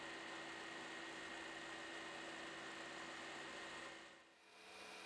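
A food processor whirs steadily as it blends buttercream frosting in its bowl, a continuous loud motor drone that dips briefly near the end before picking back up, with no talking.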